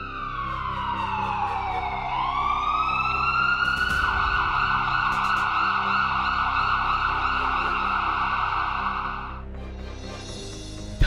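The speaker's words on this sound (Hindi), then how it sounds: "धमाके के बाद की सहमी फजाओं में रेस्क्यू टीम, फायर ब्रिगेड और एम्बुलेंस की आवाजें गूंजने लगी।" Ambulance and fire brigade sirens wail after a bomb blast in Kerala, a loud sustained rising tone that swells and holds for several seconds before cutting off, with traffic rumble underneath.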